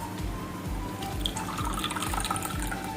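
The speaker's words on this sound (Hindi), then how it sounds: "अब मैं इसको इन ग्लासेस में छान लूंगी स्ट्रेनर की हेल्प से।" Warm turmeric water is poured through a strainer into glasses, a soft liquid trickle and splash close by, quiet and without talk.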